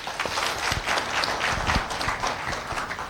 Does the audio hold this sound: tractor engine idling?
no